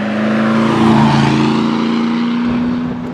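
A Daimler Dart sports car engine pulls hard and close, its tone climbing steadily through the revs, then easing off near the end.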